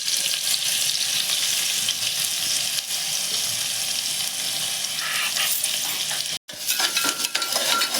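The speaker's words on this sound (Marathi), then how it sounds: "कांदा चांगला परतून घ्यायचा." Chopped onion sizzles steadily in a hot pan with cumin, mustard seeds and asafoetida, a loud continuous frying hiss with occasional stirring, briefly cut off near the end before resuming.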